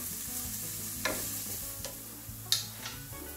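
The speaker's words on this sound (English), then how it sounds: "we're gonna just slightly brown this one, onion" Chopped onion stir-fried and lightly browning in a pan sizzles steadily up close, broken by a few sharp clicks and scrapes of a utensil on the pan, with no voices.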